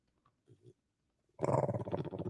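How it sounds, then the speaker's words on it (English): A pet dog growls close by, a low rumbling snarl that rises abruptly after a few faint soft noises and continues steadily to the end. "is that your dog?"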